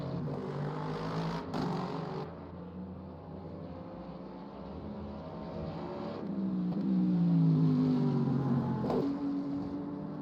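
The number 777 BMW GT3 race car in a racing video game at Fuji, its engine droning steadily with a rising and falling whine as it runs toward the line, moderately close with a brief gear-change surge.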